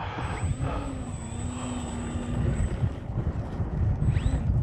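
A small RC airplane engine whines high and thin while it flies in gusting 70 mph wind. It fades out and returns over heavy, buffeting wind rumble on the microphone.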